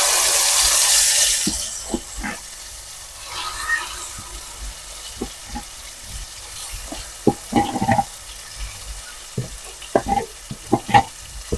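Masala for stuffed brinjal curry (gutti vankaya) hits a hot pan with a short burst of sizzling, followed by sparse scraping and tapping stirs against the pan as the frying quiets down.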